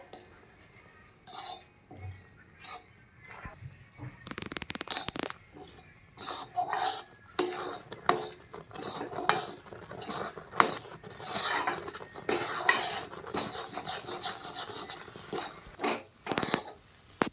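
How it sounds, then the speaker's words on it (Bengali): A spatula scrapes and knocks in a pot as flour is stirred into boiling water for chuci pitha dough, with irregular clinks and scraping bursts that are moderately loud and close. "অল্প অল্প করে আটা দিতে থাকবো, আর এদিকে কিন্তু খন্তা দিয়ে নাড়তে থাকবো"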